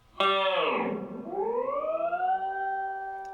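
Electric guitar on a clean tone plays a whammy-bar dive with a ringing harmonic: a bright chime that sweeps down in pitch, then bends back up and holds, sustaining loud and alone with no talk.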